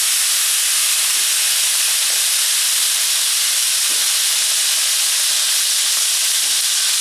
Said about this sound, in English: This is vegetable stock, and we'll add a lot of steam.